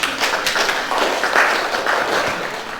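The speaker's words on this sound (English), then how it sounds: "Let's applaud to the second panel." A conference audience applauds the second panel in Strasbourg, a dense burst of clapping from many hands that stays strong and then tapers slightly toward the end.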